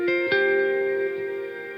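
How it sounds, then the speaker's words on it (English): Looped bass notes ring out through heavy reverb, with small delay taps smeared into a sustained wash; two picked attacks near the start, then a long decaying tail, moderately loud with no voices. "you can hear the reverb. There are all those little small delay taps"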